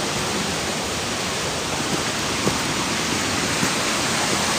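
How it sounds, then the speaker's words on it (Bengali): Water gushes with great force from a waterfall among hills, forest and rocks, a loud, unbroken broadband roar close by that holds steady throughout with no voices. "ওই যে খুবই ফোর্সে ওই জলটা বেরোচ্ছে, চারিদিকে পাহাড়, জঙ্গল, পাথর, ঝর্ণা।"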